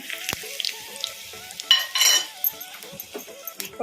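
Short bursts of sizzling and spattering as mustard seeds and chillies hit hot oil for tempering, with a few clinks of a utensil in between, close by and uneven.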